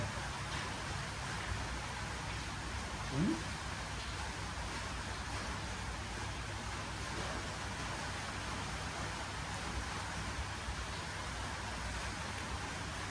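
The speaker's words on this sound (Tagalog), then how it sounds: "Lakas pa ng ulan." Steady, heavy rain hissing continuously at an even level, with a low rumble underneath and no voices.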